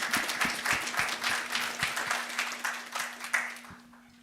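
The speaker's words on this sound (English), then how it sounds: "Please help me give them a round of applause" An audience at a kickoff event gives steady applause, a dense wash of many hands clapping at close range that holds for several seconds before fading, with a faint constant hum underneath.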